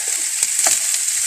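Garlic sizzles in a hot frying pan, a close, loud and steady frying hiss stirred with a bamboo or wooden spatula, giving a few soft scrapes.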